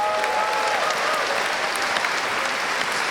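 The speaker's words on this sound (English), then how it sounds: "huge round of applause" Audience applause at a Marillion fan weekend in a concert hall in Leicester, a dense, even roar of clapping hands sustained throughout.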